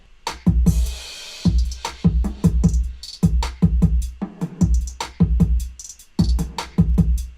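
The drum track of a remix, punchy kicks, snappy snares and crisp hi-hats in a busy, steady groove with a brief cymbal wash near the start, loud and upfront with no speech.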